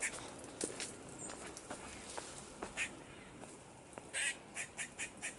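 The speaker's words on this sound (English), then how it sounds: "just a bird somewhere around here, birds, if you can hear that. Probably the mating call." Birds call intermittently along a nature reserve trail, short honking, quacking calls coming in scattered bursts and a quick series near the end, over faint outdoor ambience and soft footsteps.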